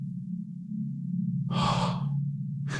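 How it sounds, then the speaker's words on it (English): A horror-story sound effect of slow breathing from underground: a low, constant droning hum with two breathy gasping exhalations rising over it, the first in the middle and another starting at the very end. "It sounded like breathing."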